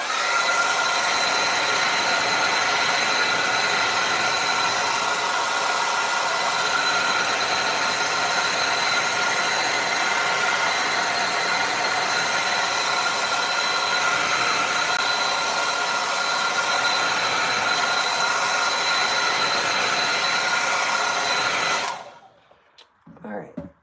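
A hair dryer blows steadily and loudly at close range to dry an acrylic painting of a buck, a continuous whirring roar that cuts off abruptly near the end.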